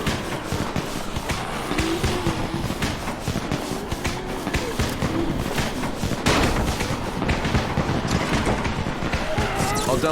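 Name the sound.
firecrackers exploding in Dying Light video game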